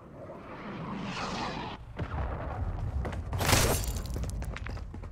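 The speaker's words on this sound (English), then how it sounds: "Hostile cruise missile incoming." Video-game cruise missile strike: a rising whoosh builds, cuts off, then a loud rumbling blast and crackling debris follow.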